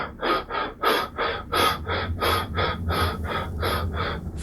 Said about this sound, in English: Tom began to gasp.